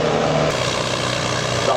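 Tractor engine straining hard at a 4-ton tractor pulling contest in Zimmerwald, a loud, steady, droning roar with a pulsing low throb, close and unbroken.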